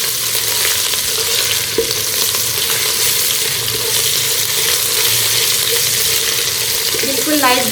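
Onions fry in oil for a pulao while a spoon stirs them continuously, giving a loud, dense sizzle close up, with scraping strokes in the pan.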